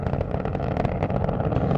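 The Space Shuttle Atlantis main engines roar during the STS-135 launch, heard from on board as a dense, loud, continuous rumble with no talk.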